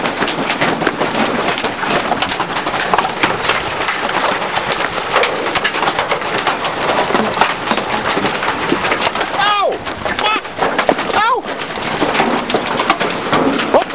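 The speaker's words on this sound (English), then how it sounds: "The hail sounds like thunder on the roof." Hail drums densely and continuously on a farm roof during a storm, a loud, steady rattling roar with a couple of brief dips, and some speech partly mixed in.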